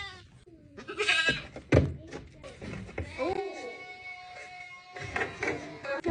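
A goat on a homestead bleats close by, its wavering cries rising over bursts of people talking and handling noise nearby.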